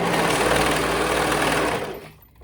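A sewing machine stitches a neckband onto a doll dress, its steady, close, rapid mechanical whir running continuously before slowing and stopping near the end.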